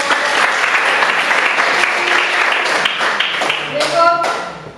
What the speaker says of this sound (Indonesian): Oke, kita aplaus.